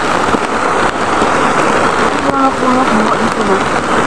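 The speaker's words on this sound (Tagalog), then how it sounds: "Ayan, sobrang lakas ng ulan talaga." Heavy rain pours in a steady, dense hiss throughout, loud and close, with a brief stretch of voices murmuring under it.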